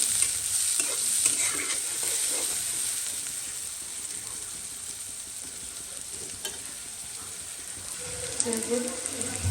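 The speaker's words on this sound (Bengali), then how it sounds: "তেলের মধ্যে পেঁয়াজ মরিচ আর হচ্ছে এলাচ গরম মশলা এগুলো দিয়ে দিচ্ছি পেঁয়াজটা একটু ভেজে নেব" Onion, chilli, cardamom and garam masala frying in oil, a steady hissing sizzle with stirring scrapes throughout, gradually easing, with a brief faint voice near the end.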